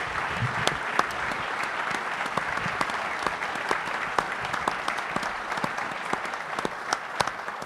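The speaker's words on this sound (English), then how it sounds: "Ladies and gentlemen, big round of applause." Live audience at a Christmas special pub quiz show gives a long round of applause for a special guest, with distinct sharp claps in a steady crowd clatter and a few faint voices.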